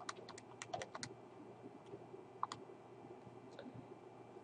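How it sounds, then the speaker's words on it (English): Numbers tapped out on a calculator: quiet, quick plastic key clicks in short irregular bursts, with brief pauses between groups, alone against a soft background hum. "type that in your calculator"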